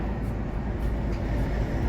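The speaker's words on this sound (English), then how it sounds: "I'm on a tow truck." A steady, loud road rumble from riding aboard a tow truck, a continuous low engine and tire drone with no break across the clip.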